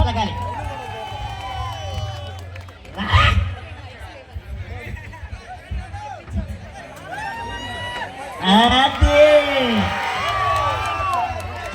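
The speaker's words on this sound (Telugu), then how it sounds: "గట్టిగా చప్పట్లతో స్వాగతం పలకాలి" An outdoor stage event crowd cheers, whoops and claps to welcome a Jabardasth team performer, with lively bursts of shouting over amplified voices speaking.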